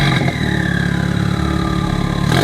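A Subaru WRX engine revs and rumbles loudly up close, with a deep, raspy exhaust tone through a catless downpipe and muffler deletes that rises and falls.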